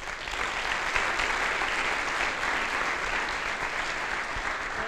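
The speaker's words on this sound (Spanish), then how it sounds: "Así que, sin más dilación, por favor, un fortísimo aplauso para Ismael Fernández." A large workshop audience at a technology entrepreneurship event applauds loudly and steadily, a dense wash of many hands clapping with no pauses or voices on top.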